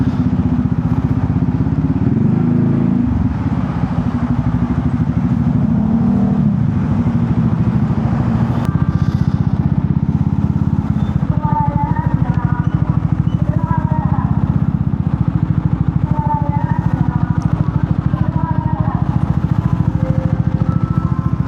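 A motorcycle engine runs loud and steady at Ketapang port while boarding the ferry, with clattering and other vehicle noise around it.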